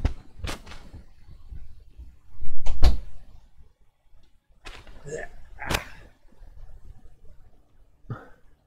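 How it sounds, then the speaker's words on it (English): A bedroom door being shut, heard as a few sharp knocks and thuds spread over several seconds, fairly close, with brief mouth noises and quiet pauses between them. "I have to close my bedroom door"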